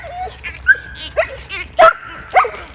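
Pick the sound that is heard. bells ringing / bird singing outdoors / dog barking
dog barking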